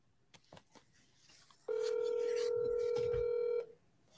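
Phone call being placed, with a few short tapping sounds and then a steady tone sustained for about two seconds before stopping, soft and close, with brief quiet speech around it.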